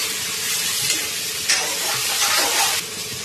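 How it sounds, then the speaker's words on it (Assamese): Bay leaf and onion frying in hot oil, a loud continuous close sizzle with a few brief stirring swells, no voices over it. "সেইখিনি তেল গৰম হোৱাৰ লগে লগে তেজপাত, পিঁয়াজ দি পেলাই অকণমান ভাজি লওঁ।"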